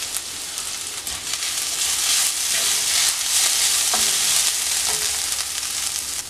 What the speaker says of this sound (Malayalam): അതിലേക്ക് ചതച്ച് വെച്ചിരിക്കുന്ന അരപ്പിട്ട് കൊടുത്തിട്ട് ഒന്ന് മൂപ്പിച്ചെടുക്കാം